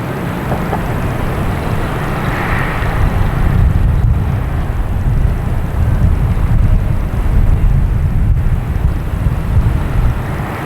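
Lufthansa airliner at Boston Logan Airport, a steady broad jet roar that swells slightly and holds, heavily buffeted by wind on the microphone.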